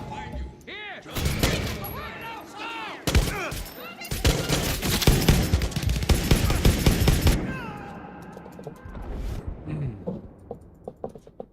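Video game gunfire in bursts, loud rapid automatic shots and volleys over several seconds, near and dense, with a player talking before and after the shooting.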